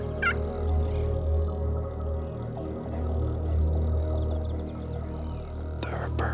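Gould's turkeys on a morning hunt in Mexico, gobbling in rapid rattling bursts from a couple hundred yards off, faint against a low steady hum, with soft whispering nearby.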